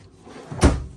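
A drawer in a 2023 Forest River Rockwood Mini Lite 2506S travel trailer shuts with a single short, close thud after a soft sliding rustle.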